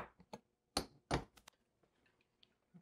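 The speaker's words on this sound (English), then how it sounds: "so then we'll put the ice into that" Ice cubes drop into a cocktail glass for a festive Yule drink, several sharp clinks and knocks in an irregular burst, two louder hits standing out, then a few faint ticks with no talking.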